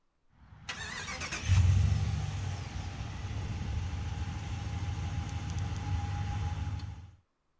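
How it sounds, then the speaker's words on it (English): A 2019 Ram 1500 Laramie Longhorn crew cab 4x4 pickup starts by remote start: a short cranking burst catches into a loud engine flare, then settles to a steady close idle before cutting off near the end. "this truck is equipped with a remote start as standard equipment. To operate is simple, just double press the remote start button on the key fob."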